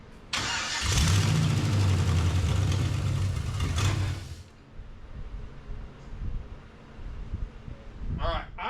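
The Tickle Pickle, a long-idle project car, cranks and fires, its engine roaring loudly for a few seconds before cutting out, followed by quieter rumbling and a brief sputter near the end.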